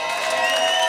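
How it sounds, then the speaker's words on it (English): Audience at a roast battle comedy show applauding, a dense sustained wash of clapping and crowd noise, loud and even for a brief moment. "One more big round of applause"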